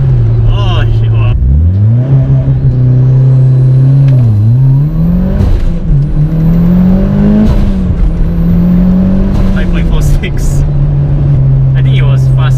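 Mitsubishi Evo 9 accelerating hard from 0 to 100 km/h, a loud engine climbing through several gears with audible shift dips and whistling turbo, heard from inside the car with occasional voices.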